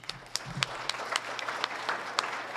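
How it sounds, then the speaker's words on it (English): Scattered, fairly faint clapping from an audience at a Farm Bureau ambassador contest, with sharp individual claps over a soft, steady wash of room noise. "everybody in this room deserves a round of applause"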